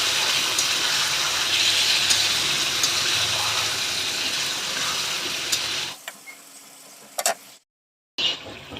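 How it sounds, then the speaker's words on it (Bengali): Chicken sautés in a pan with a steady close sizzle and stirring, then the sound drops away abruptly into near silence broken by brief clatters. "এখন কিন্তু আমাকে মাংসটা ভালো করে কষিয়ে নিতে হবে"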